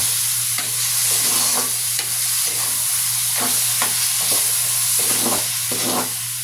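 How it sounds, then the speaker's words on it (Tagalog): Pork afritada with tomato sauce sautéing in a pan, a steady loud sizzle under repeated scraping stirs of a spoon, with no talking. "habang nagigisa ako"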